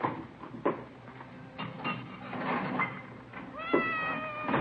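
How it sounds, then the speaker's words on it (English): A Siamese cat meows several times in a radio-drama scene, short rising and falling cries scattered across the stretch, with a longer wavering meow near the end over quiet room noise. "It's a nice cat you got there. Siamese?"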